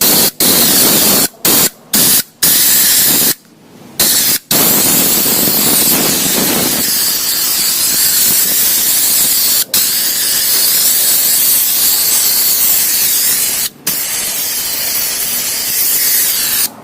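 An air compressor blasts air to clean dust out of a computer, producing loud, steady broadband hissing in long bursts broken by a few short pauses, close up with no talking.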